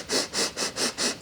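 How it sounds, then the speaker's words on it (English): Quick, short sniffs through the nose in a smell-training exercise, five rapid close breaths in an even rhythm with nothing else heard. "The bunny sniffs really bring a lot of blood flow to your nasal cavity"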